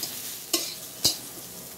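Plantain pieces frying in hot oil in a home kitchen while a vegetarian shukto is prepared, a quiet steady sizzle broken by three sharp stirring scrapes.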